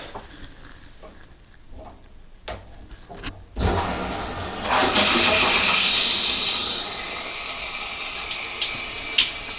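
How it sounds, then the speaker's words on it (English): Water from a shower head rushes on and keeps running as a steady, fairly loud hiss, after a few quiet clicks and knocks at the start. "Okay, now I've turned on the water."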